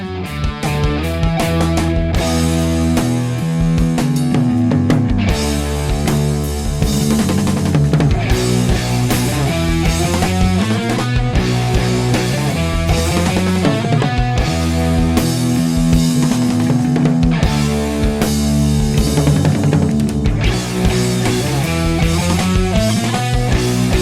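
Distorted electric guitar plays a song's chorus with power chords, a thick, continuous, loud rhythm part sustained over about twenty-four seconds with no talking.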